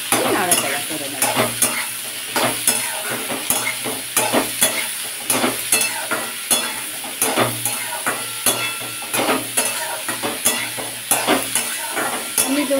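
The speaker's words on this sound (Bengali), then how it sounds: "চেরা লঙ্কা দুটো দিয়ে দেবেন, দিয়ে একটু নাড়াচাড়া করে নেবো। খুব বেশি ভাজবো না, নাড়াচাড়া করে নেব।" Cumin and slit green chillies frying in a pan, a loud steady sizzle with rhythmic scraping and stirring strokes throughout.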